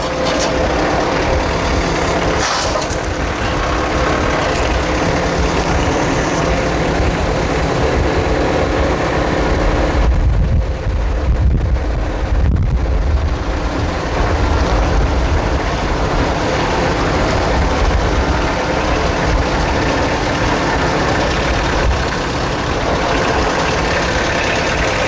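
A tractor engine runs steadily and loudly throughout, a continuous close rumble with broadband mechanical noise that barely changes and has no talk over it.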